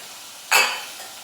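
Broad beans tipped into a pan with chorizo for a risotto base, giving one sudden loud sizzling burst that fades over about half a second, close and alone.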